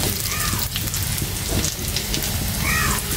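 Spinach dropped into a hot frying pan where onions have browned, giving a loud, steady crackling sizzle that holds for a few seconds.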